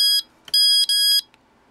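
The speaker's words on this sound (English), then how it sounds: "Oh, okay, so there's the alarm." An alarm clock sounds a loud, shrill electronic beep in short bursts, one brief tone followed by two longer ones, with quiet gaps between them.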